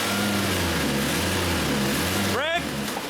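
A VW Passat engine in drive rising in a quick rev as gas is applied near the end, over a low steady idle hum with a person talking earlier.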